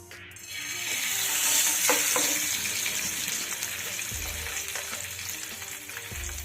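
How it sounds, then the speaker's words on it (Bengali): Pabda fish hit hot oil in a kadai with a loud, steady sizzle that swells as the pieces go in, with a few faint clinks and spatters up close and no voice. "এবার গ্যাসের হিটটা কমিয়ে দিয়ে মাছগুলো একে একে দিয়ে দেবো"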